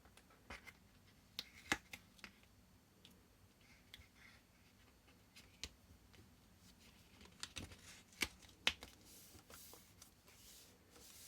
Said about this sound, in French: Je décolle mon double face en essayant de ne pas bouger mon papier.